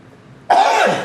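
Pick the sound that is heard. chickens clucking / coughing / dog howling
coughing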